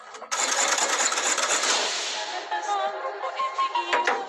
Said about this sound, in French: je vais assembler mes plates-bandes aux différents plateaux à la machine à coudre